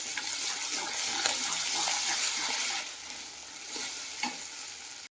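Masala gravy of onion, garlic, ginger paste, tomato and cashew frying in oil in a home kitchen, a steady close sizzle with faint stirring scrapes, a little louder in the first half and easing off later.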